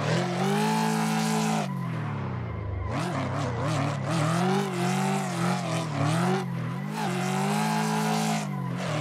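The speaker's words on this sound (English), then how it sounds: "Mustang a lot louder in third." Ford Mustang street car from a racing game thrown around the twisty Touge Island roads, its engine revving loud and continuous with rising and falling pitch through gear changes, a brief lull before climbing hard again.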